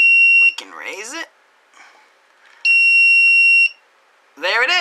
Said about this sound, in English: if I cross this laser beam, the alarm goes off